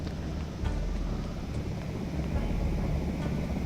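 Steady, fairly loud rotor drone of a helicopter passing overhead in the zombie survival game Project Zomboid, a continuous low rumble with no voices.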